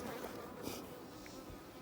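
Honey bees swarm around a beekeeper at a summer hive check, making a continuous close, dense buzzing drone with no talk.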